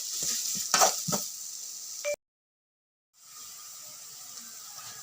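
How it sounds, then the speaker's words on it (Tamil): Onions stir and sizzle in a hot pan for a capsicum poriyal, a steady frying hiss with scraping stirs. It cuts out abruptly into silence, then the sizzle returns more softly. "வெங்காயம் போட்டு கிளறி விடணும். வெங்காயம் செவக்க மட்டும் கிளறணும்."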